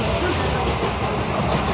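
Passenger train running on its rails, a dense continuous rumble with rattling carriage noise close around, steady throughout with no clear gaps.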